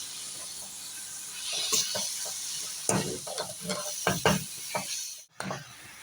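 Chicken and vegetable spring roll filling stirred with soy sauce in a hot pan, soft continuous sizzling broken by a series of close scraping and clattering stir strokes, no talking.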